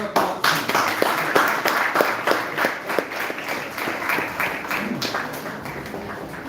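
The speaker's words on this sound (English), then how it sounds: "A huge round of applause." An audience at a school quiz event claps in a sustained round of applause, individual sharp claps standing out near the front over a steady crowd wash that gradually tapers.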